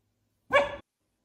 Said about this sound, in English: She's got the greatest bark.